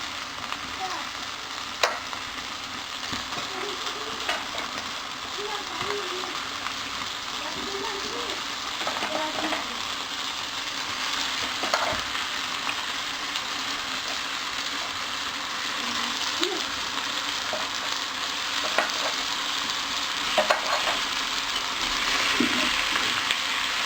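Chicken pieces for biryani sizzle and fry in a pan, a steady dense crackle with occasional scraping stirs throughout, close and fairly loud.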